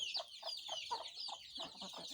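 Farmyard chickens cluck in a steady run of short, repeated calls, fairly close, over a faint background of other birds chirping.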